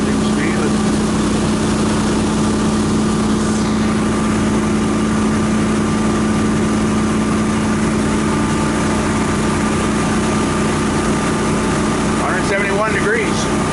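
A Volvo Penta 8.1 marine engine runs under load at 3,200 rpm during a boat load test, a loud, steady droning hum with a strong constant tone. Someone speaks briefly over it.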